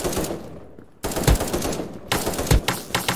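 Rapid bursts of gunfire in a Minecraft game, loud and close, two sustained volleys separated by brief pauses, with heavy low thuds in each burst.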